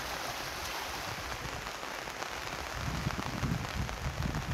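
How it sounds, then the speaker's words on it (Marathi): Cloudburst-like rain pours down in Kuber village, Gevrai, Maharashtra, a constant rushing hiss growing a little heavier and more splashy in the last seconds. "गेवराई कुबेर गावात ढगफुटी सदृश पाऊस झाला"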